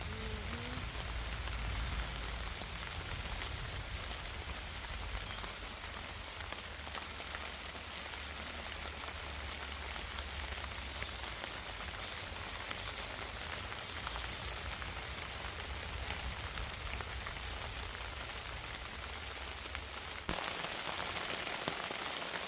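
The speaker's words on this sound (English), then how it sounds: "It's raining, man." Heavy rain during a thunderstorm drums steadily on a camping tent or tarp, a dense unbroken hiss that stays loud and close throughout, with no voices.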